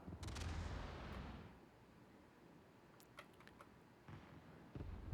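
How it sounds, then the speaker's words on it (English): Naval gunfire in the World of Warships video game, heard as a loud booming burst up front, a few sharp distant reports in the middle, then another heavy blast near the end, over a low rumbling background. "More shots coming in now."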